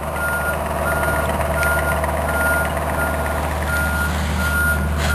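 Regular reversing beeps repeat steadily over the low rumble of an idling truck engine, moderately near and continuous throughout.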